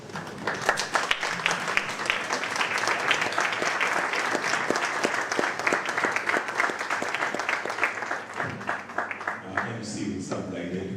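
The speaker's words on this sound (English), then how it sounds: "perhaps the best way for us to do this is just to applaud Jerusha Kananu" Audience at a book launch event applauding steadily, many hands clapping in a dense, continuous patter that thins out near the end, moderately loud with some voices mixed in.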